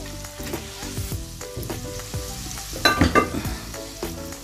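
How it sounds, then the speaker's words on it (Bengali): Extra oil is added to a frying pan while cooking komda bhaji, bringing a bright sizzle with scraping stir strokes and a few sharper crackling bursts near the end, close and without talk. "তেল এখানে আরেকটু অ্যাড করতে হবে"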